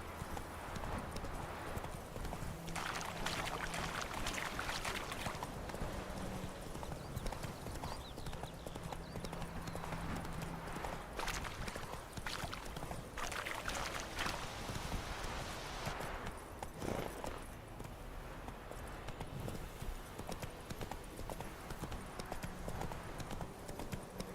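Roach the horse's hooves clip-clop steadily through a walking gait in The Witcher 3, a continuous near rhythm with outdoor ambience and occasional voices underneath.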